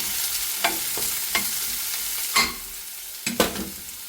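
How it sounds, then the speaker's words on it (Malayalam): Onion frying in oil for beef cutlet, a soft continuous sizzle broken by several sharp scrapes and clinks of a spoon stirring in the pan. "സവാള അധികം മൂപ്പിൻ്റെ ആവശ്യമില്ല കട്ട്ലേറ്റിന്."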